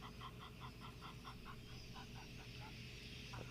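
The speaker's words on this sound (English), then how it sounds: "Lots going on with the geese right now too." Geese calling at a wildlife watering spot where warthogs and elephants roam: a faint, distant series of rhythmic honking calls repeating about twice a second over a soft background hum.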